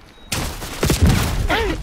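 A gunshot in the Call of Duty video game, one sharp loud crack followed by brief game noise and a short voice in the background.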